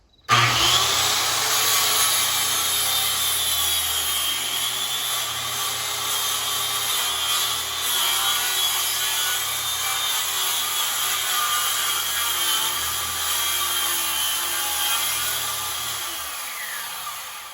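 Power saw plunge-cutting into a wooden sub-floor, a loud continuous rasping cut that starts abruptly and runs steadily, easing off and stopping near the end.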